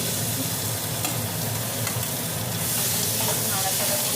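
Fried potato pieces are stirred into a thick, cooked-down masala in a pan, giving a steady sizzle under scraping spatula strokes that stay close and even throughout, with no talking.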